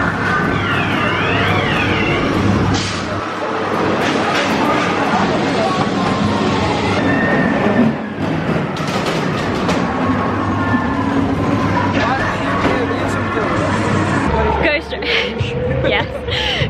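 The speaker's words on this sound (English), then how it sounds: "we're gonna do the Ghost Train" Ghost Train dark ride at Pleasure Beach, a rumbling car on rails with clattering wheels and loud effects, a continuous roar with talk and shouts throughout.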